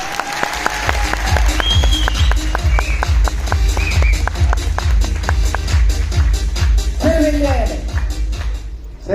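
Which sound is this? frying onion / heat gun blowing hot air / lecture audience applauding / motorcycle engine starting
lecture audience applauding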